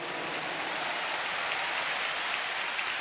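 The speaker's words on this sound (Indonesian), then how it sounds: "Tepuk tangan buat semua yang hadir di sini." Dense, steady applause from a large stadium crowd at a campaign rally in Jakarta, a continuous wash of clapping that holds at an even level for the whole stretch, with no voices rising above it.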